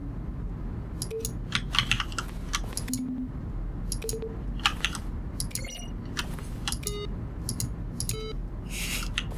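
Video game button presses from The Stanley Parable, each a crisp keyboard keystroke blended with a short synthesized tone, sounding one after another at irregular intervals over a low steady hum.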